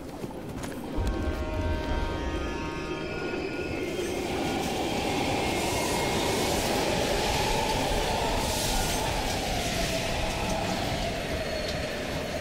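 Train rolling through an abandoned station in the video game Black Ops Cold War, a loud continuous rumble with rattling wheels and metallic clatter building and sustaining close by.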